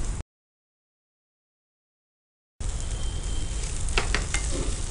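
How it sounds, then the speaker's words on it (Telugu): Potatoes lightly frying in a pan for a crunchy potato dish, a close steady sizzle with a few stirring clinks, heard after a brief gap of silence at the start. "జస్ట్ లైట్గా ఫ్రై అయితే సరిపోతుంది అంటారు? లైట్గా ఫ్రై అయితే సరిపోతుంది."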